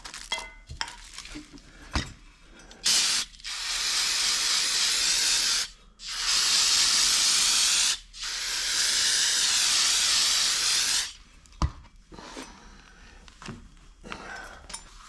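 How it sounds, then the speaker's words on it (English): Spray cleaning a Bobcat 600 part: three long, loud bursts of hissing spray separated by short pauses, with a few shorter bursts, knocks and clanks before and after. "spray this off here quick"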